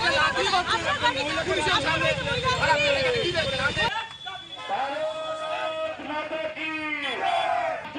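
A crowd at a political protest rally chants and shouts slogans in loud rhythmic unison, voices rising and falling, with a brief cut midway before the chanting resumes.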